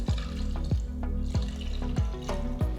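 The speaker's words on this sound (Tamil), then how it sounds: "அதுக்கு நான் 3 கப் தண்ணி சேர்க்க போகிறேன்." Water being poured into rice in a pot for Kongunadu white biryani, a near, steady liquid pour with repeated splashing pulses, with no talking.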